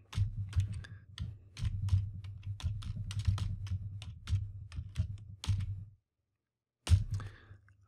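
Source code being typed on a computer keyboard into a C program's main function, a close, steady run of crisp key clicks with a brief pause near the end before a few more keystrokes.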